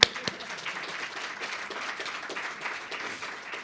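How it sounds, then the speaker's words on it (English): A brief burst of hand clapping, steady and fairly close, lasting a few seconds with a sharp first clap. "I'm going to clap for you."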